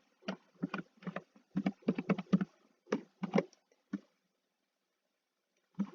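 Computer keyboard keys are typed in quick irregular bursts of close, crisp clicks, then a pause before one last keystroke.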